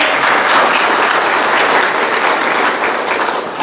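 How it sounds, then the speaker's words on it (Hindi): An audience at a spiritual discourse on Shiva breaks into loud, sustained applause, a dense, even roar of many hands clapping close by with no speech over it. "आपके ताली बजाने से मैं प्रसन्न नहीं होता"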